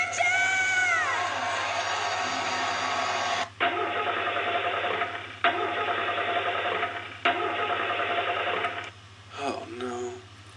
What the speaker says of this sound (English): Anybody goes out and turns their key, the car won't start, it's frustrating.